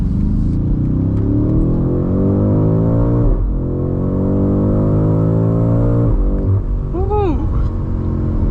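A 2025 BMW M8 Competition accelerating hard out of a corner, its engine note climbing loudly and steadily with a brief dip around a gear change, then rising again; a short voiced exclamation and whoop cut in near the end.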